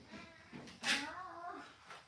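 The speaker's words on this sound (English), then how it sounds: "There's a cat on my treadmill." A cat sitting on a treadmill meows a few times, quiet and close, with one longer, rising and falling meow in the middle and shorter calls around it.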